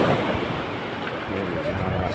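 Strong sea waves wash and rush in a constant broadband roar with wind buffeting the microphone on a boat trip to Batbatan Island, steady and close throughout.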